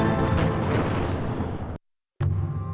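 Cannon fire in a Total Annihilation: Kingdoms cutscene makes a dense, loud, continuous rumble of booms. It cuts to brief total silence and then resumes as heavily as before.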